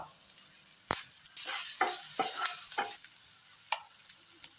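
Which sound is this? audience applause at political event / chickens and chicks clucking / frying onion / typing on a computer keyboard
frying onion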